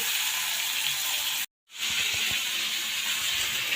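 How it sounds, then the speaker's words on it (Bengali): Fish frying in a pan gives a steady broadband hiss and sizzle throughout, broken by a brief silent gap partway, then the crackling sizzle resumes with a few louder pops. "মাছ ভাজতে দিয়েছি"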